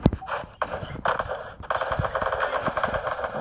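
Rapid bursts of gunfire from a shotgun in the mobile video game Free Fire, a dense run of sharp repeated shots that starts after a brief pause and then continues steadily, loud and close, with no talking over it.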